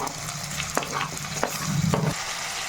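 Large chopped tomato added to a hot pan and sautéed for tamarind drumstick kuzhambu, a close steady sizzle broken by a few scraping stirs with no talking.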